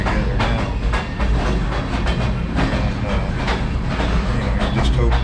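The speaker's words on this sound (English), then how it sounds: "They're stringing the train together now." Freight train cars banging together as they are coupled in a rail yard, with sharp metallic clanks over a steady heavy rumble that continues throughout.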